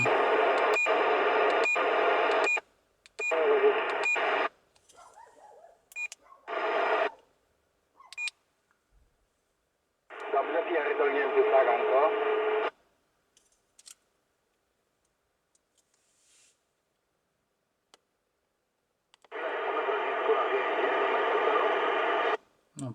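Bursts of CB radio transmission from a motorway, with static-laden voice-band noise, cutting in and out with squelch beeps, separated by silent gaps.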